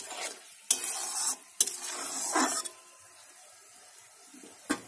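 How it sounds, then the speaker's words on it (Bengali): Fish curry gravy with cashew paste bubbles in a pan. Bursts of hissing, sputtering noise and stirring scrapes come and go, loud and close at first, then fading to a quieter simmer with one final sharp clatter. "ঝোলটা কিন্তু খুব সুন্দর করে ফুটছে।"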